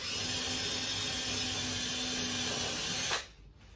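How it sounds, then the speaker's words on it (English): A power drill whirs steadily and loudly for about three seconds, boring a hole into timber for a car armrest, then cuts off abruptly into quiet. "I'll just drill one hole in the middle"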